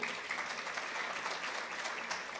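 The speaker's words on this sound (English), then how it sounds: "Let's give another round of applause." Soft, steady applause rises from a conference audience at an environmental and climate health event, even clapping heard from a distance at low volume, with no voices.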